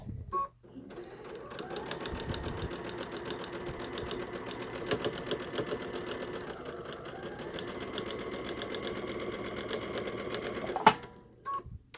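Brother Dream Creator Innov-is VM 5100 sewing machine topstitching with a zipper foot, a steady close mechanical hum running for several seconds without pause, then stopping with a soft click.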